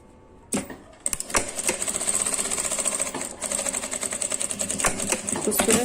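Sewing machine stitching a fabric essential oil holder, rapid rhythmic clatter starting after a brief pause, steady and moderately close with one short break.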